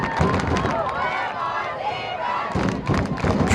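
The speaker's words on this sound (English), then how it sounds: "You can hear the Claremore crowd come to life" Claremore fans in the stands at an Oklahoma 5A girls soccer state final, a loud swelling roar of cheering and shouting that dips briefly midway and surges again, with a commentator talking over it.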